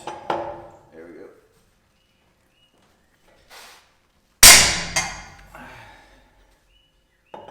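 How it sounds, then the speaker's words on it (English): Lug bolts being loosened on a trailer wheel hub during a hub replacement, heard as a few separate metallic clanks and knocks, one loud sharp bang with a ringing tail, then quiet gaps. "So first thing I'm gonna do before I jack it up, I'm gonna loosen these lugs."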